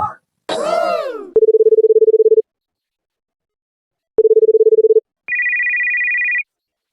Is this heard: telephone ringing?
yes